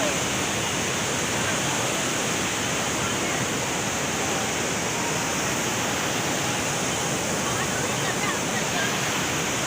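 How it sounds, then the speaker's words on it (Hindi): Heavy water pours and rushes at a Chamunda temple, a dense, constant roar that fills the whole scene without any break, loud and close, with a voice barely rising above it. "तो गाइस आप देख सकते हैं कि कितना भारी पानी यहाँ पे आ चुका है।"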